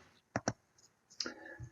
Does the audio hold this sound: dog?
no